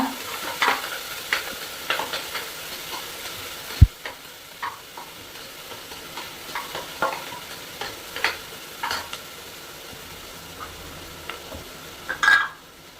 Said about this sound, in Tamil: கட் பண்ண 2 வெங்காயம், கருவேப்பிலை, அதை போட்டு நல்லா கொஞ்சம் வதக்கிக்கலாம்பா.